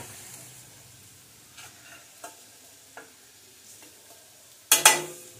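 Chopped onion frying in a pan until reddish for Kolhapuri mutton, a soft continuous sizzle with a few light stirring scrapes and a sharp clatter near the end.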